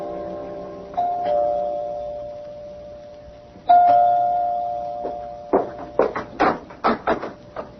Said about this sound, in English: You can ring the doorbell.